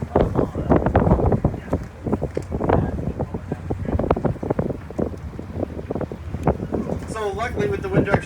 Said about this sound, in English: Winds coming in from the southwestern direction.